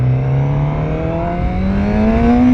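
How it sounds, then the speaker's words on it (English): A 2024 Suzuki GSX-R750 motorcycle engine accelerating, a loud close rising whine that climbs steadily in pitch with no talk over it. "Oh yeah, this bike wants to go. 150 horsepower ain't nothing."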